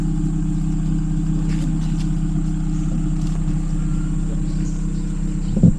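A car engine idles steadily while warming up, producing a loud, constant low rumble that holds level throughout with a brief bump near the end and no talk.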